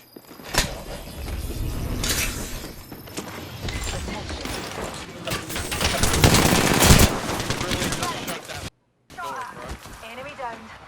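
Gunfire in Apex Legends, rapid bursts of automatic weapon fire and shots rattling continuously with game effects, briefly cutting to silence before a voice speaks near the end.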